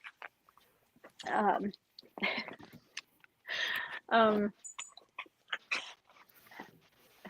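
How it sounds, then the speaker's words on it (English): Dogs whimper and make small whining, yipping sounds in close, intermittent bursts while pulling at their owner indoors, with some quiet voice sounds mixed in. "Sorry, my dogs are literally trying to get me off camera."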